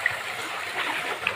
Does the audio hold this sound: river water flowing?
yes